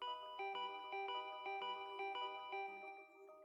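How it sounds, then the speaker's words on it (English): Doorbell ringing in the video game Danganronpa V3, a bright electronic chime repeating in regular two-tone bursts about every half second, clear and alone before fading at the end. "Now the doorbell won't stop ringing."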